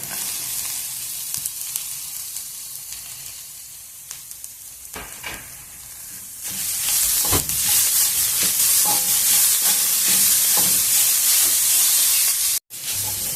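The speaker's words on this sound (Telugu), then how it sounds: "ఉల్లిగడ్డ ముక్కలు మగ్గినాయి. ఇప్పుడు తురుముకున్న క్యారెట్ కూడా వేసేద్దాం." Grated carrot tips into softened onion pieces frying in a pan for carrot rice, the sizzle jumping to a loud, dense hiss midway and holding steady with occasional stirring scrapes, close and without talk.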